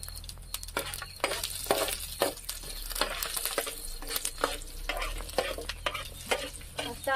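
Garlic sizzles steadily in hot oil with mustard seeds and cumin, a close crackling fry broken by scraping stirs and light clinks, with no talking.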